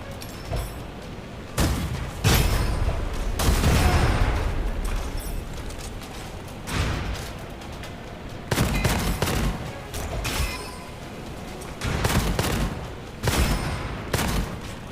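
Dense weapon fire from the first-person shooter Gunfire Reborn, with a rocket launcher in use: loud, rapid bursts of shots and booming blasts repeating in clusters across the whole stretch, with no talk.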